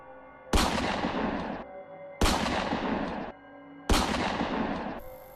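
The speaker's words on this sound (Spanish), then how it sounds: "Chris disparó 3 tiros que se estrellaron contra el pecho de la criatura" Three heavy gunshots in a dramatized Resident Evil audiobook, evenly spaced about a second and a half apart, each a loud sharp blast with a long ringing decay over a faint musical underscore.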